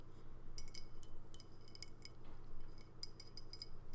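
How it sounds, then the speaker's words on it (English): Light clinks and taps of a ceramic lid being handled on a travel mug, a cluster of brief, close, faint knocks and chinks over a quiet background, with no talking. "there's the ceramic lid that comes off the top"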